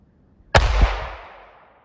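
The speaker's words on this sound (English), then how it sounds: "Gonna shoot about 5 feet away." A single sharp, loud shot from a Glock 42 pistol firing Federal HST .380 ammunition about five feet from the shooter, followed by a short fading echo.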